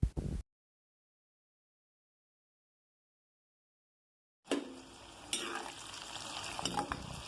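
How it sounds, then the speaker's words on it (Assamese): Onions hit hot oil and start frying, a sizzling hiss with light stirring clatter that begins after a long silence and grows steadily, preceded by a short burst of sound at the very start. "তেল গৰম হৈ যোৱাৰ পিছত প্ৰথমতে পিয়াজ গুটিখিনি দি লম দি অলপ দেৰি ভাজি লম"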